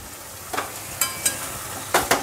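Pointed gourd and potato pieces fry in a spiced pan, giving faint, intermittent bursts of sizzling and stirring clatter, with no talk.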